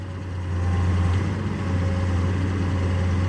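A CAT E120B excavator runs with a steady, low diesel drone that swells slightly and holds close and even, with no voices.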